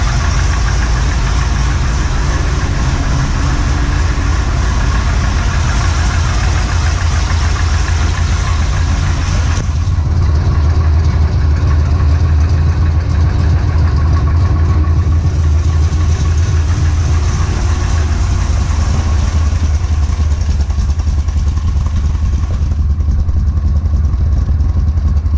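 A 1970 Corvette engine idles through long tube headers and Magnaflow mufflers with a deep, throaty burble and steady low rumble, loud and close, running continuously without revving.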